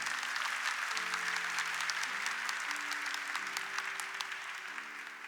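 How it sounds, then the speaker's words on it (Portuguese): A church congregation at a Catholic morning service claps together in sustained, dense applause, with a held musical tone underneath that slowly fades toward the end. "Então vamos aplaudir o amor de Deus nessa manhã."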